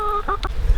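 Hens in a mobile chicken tractor on an organic vineyard give a few short, close clucks in under a second over a faint outdoor background.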